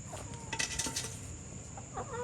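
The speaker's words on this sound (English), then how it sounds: "But here's all my chickens." Chickens clucking softly at a distance on a chicken farm, a few scattered clucks over a faint background hum and some clinking.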